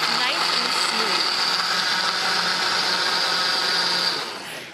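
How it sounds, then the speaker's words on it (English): A blender whirs steadily at high speed, pureeing apples, berries and milk into a smoothie, a loud constant motor whine that runs for several seconds before spinning down at the end. "I'm gonna puree this nice and smooth."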